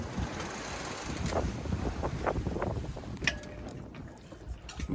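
A sailboat cruises along under a reefed mainsail in a steady breeze, with continuous wind rush and water noise swelling and easing, plus occasional creaks and knocks from the rigging, and no talk.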